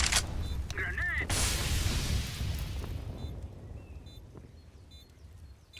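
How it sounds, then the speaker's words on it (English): A grenade blows up in a Counter-Strike match: a loud, close burst and rumble that thins into a long fading tail, with short mechanical clicks and a player's shout over it. "Grenade!"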